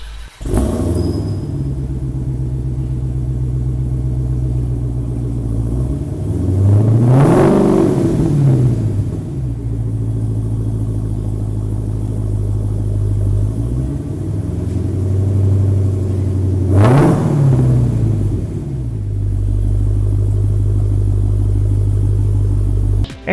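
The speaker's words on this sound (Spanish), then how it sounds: "vamos a prenderlo con este botón de encendido" A 2019 Dodge Challenger SRT Hellcat idles with a deep, steady rumble, then is revved hard twice, each swelling roar rising and falling back to idle, loud and close with no talking.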